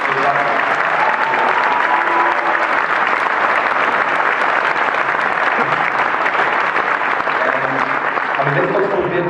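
A large audience applauds at a university graduation ceremony, with loud, dense, continuous clapping filling the whole stretch and no break.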